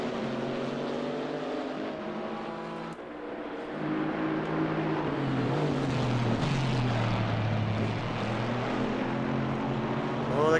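GT4 race cars on track at Circuit de Catalunya, a Chevrolet Camaro mixed with the V8 of an Aston Martin, roaring steadily in the middle distance with engine notes rising and falling as they pass, a continuous blended drone without speech.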